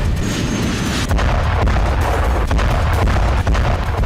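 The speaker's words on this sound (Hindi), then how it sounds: "हमलों के लिए हिजबुल्लाह ने फादी और नस्र मिसाइल का इस्तेमाल किया है।" Hezbollah Fadi and Nasr missile strikes produce a dense, loud rumble of booming explosions that fills the whole span, with repeated heavy thuds and no speech.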